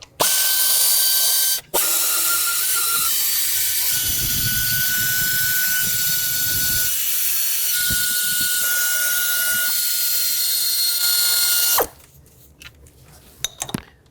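An air ratchet spins out the rear valve cover bolts on a 2013-2020 Nissan Pathfinder 3.5L V6, a loud steady whirring that breaks off briefly near the start, then runs on for about ten seconds before cutting out.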